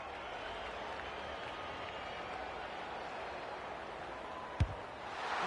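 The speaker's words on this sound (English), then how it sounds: "The crowd noise tells you all you need to know." Simulated stadium crowd in the AFL 26 Australian rules football video game gives a steady, even roar of cheering and applause. A single sharp thump comes near the end.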